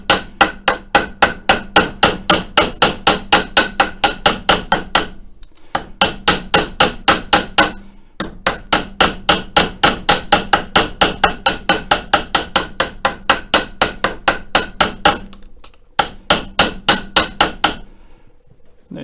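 Light, rapid hammer taps ring out on an anvil as a copper lug cut from old copper pipe is neatened, in steady close-up bursts of many even strikes separated by a few short pauses.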